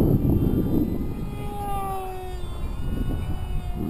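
A small RC model airplane with an AP .061 glow engine and Profi tuned pipe flies over a park, its high buzzing whine sweeping in pitch as it passes, loud and continuous.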